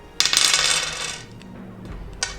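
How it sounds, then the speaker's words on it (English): Three six-sided dice clatter and rattle across a hard tabletop for about a second, close and bright, as they bounce and settle, with one more small click at the end and no talking. "we're going to roll the 3d6 dice again."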